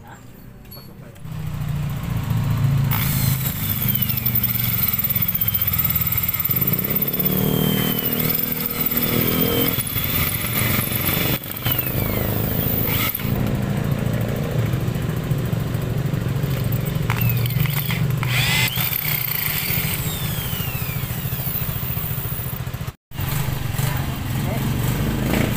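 A loud power drill with a 532 bit grinds steadily into a broken bolt in the cylinder head of a Raider 150 motorcycle, running almost continuously close by with brief pauses and pitch changes as it bites.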